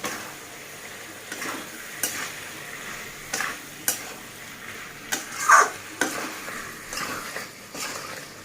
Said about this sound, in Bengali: এবার ভেজে রাখা চিংড়ি মাছগুলো দিয়ে আর একটু কষিয়ে নিচ্ছি